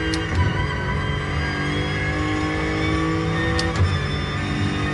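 Race car engine in Gran Turismo Sport during a 15-minute endurance race, a steady loud drone with sustained harmonic tones and slight rises, continuous throughout without talk.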